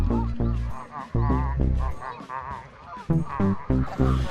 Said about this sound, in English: leave the geese to it